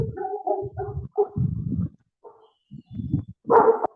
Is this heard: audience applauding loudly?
no